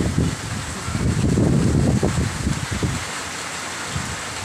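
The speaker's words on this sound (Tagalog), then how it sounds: "Ayan na ang hangin." Heavy gusting typhoon wind roars in swells, with rain hissing steadily underneath; the gusts peak early then ease into a lighter, constant wash.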